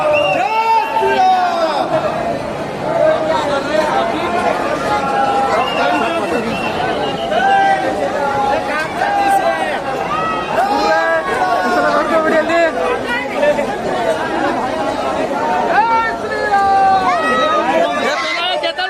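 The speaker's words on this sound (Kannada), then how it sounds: "ಕ್ರೌಡ್ ನೋಡಿ ಗುರು" A large crowd of pilgrims in Ayodhya chatters and calls out continuously, a loud dense babble of many voices close around with shouts rising now and then.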